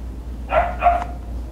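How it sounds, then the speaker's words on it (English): Two quick dog barks come from somewhere beyond the room, fairly faint against a low steady background hum. "Sorry about the dogs."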